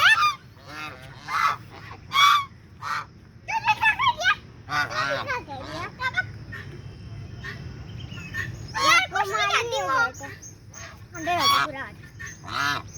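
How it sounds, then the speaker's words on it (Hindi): Several ducks honk and quack in loud irregular bursts close by, mixed with children and adults talking throughout. "हाँ डक को चुप करवाओ, डक को।"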